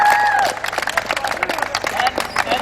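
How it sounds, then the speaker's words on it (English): A crowd at a campus divestment meeting cheering and applauding for graduating students, a burst of clapping and whoops up close, with a voice briefly at the start. "Let's have a big cheer for everyone"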